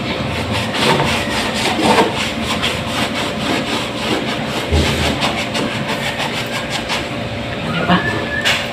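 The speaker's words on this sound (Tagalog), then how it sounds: "Malalaki kuskusin. Ito lang yung pangkuskus ko." Large household items are scrubbed with a scrubbing brush, giving steady rhythmic rasping strokes, close and loud, with a little talk in the background.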